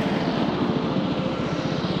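A motorcycle engine grinds steadily and loudly while the bike is ridden up a slope, a continuous low, rough drone with no talk over it.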